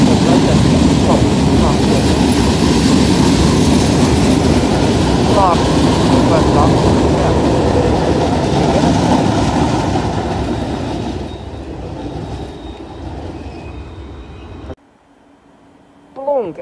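A train rumbles through Den Haag Centraal station, loud and close, with a heavy rolling clatter and brief wheel squeals that fades near the end before a short squeal returns.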